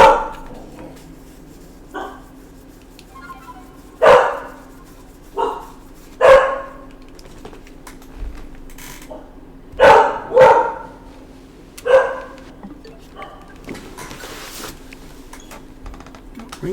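A puppy barks in sharp single and double barks, spaced irregularly and fairly close, against an otherwise quiet room with a faint steady hum.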